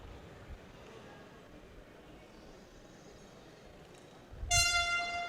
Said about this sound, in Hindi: and the horn has been sounded